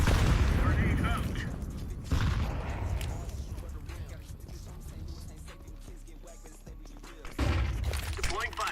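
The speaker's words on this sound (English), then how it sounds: "Grenade out." Grenade blasts in Counter-Strike 2, with a heavy boom at the start, another sharp burst near two seconds and a third late on, each decaying into a rumbling tail over mixed game noise.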